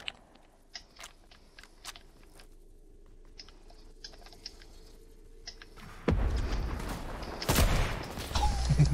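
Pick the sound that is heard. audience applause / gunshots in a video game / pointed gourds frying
gunshots in a video game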